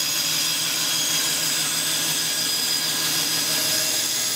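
A bandsaw runs steadily while making a series of short relief cuts into a wooden board, a continuous high-pitched whine and hiss holding at an even level throughout.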